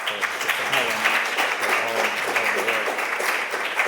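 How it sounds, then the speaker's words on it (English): An audience applauds steadily, a dense patter of many hands clapping at moderate loudness for several seconds. "let's give a hand of applause for Sister Helen"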